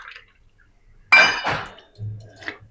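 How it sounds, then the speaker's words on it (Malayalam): Water is poured from a glass into puttu rice flour, a clink of glass followed by short splashing and trickling pours, close and alone without talk. "1 ഗ്ലാസ് പുട്ടുപൊടിക്ക് 1 ഗ്ലാസ് വെള്ളം."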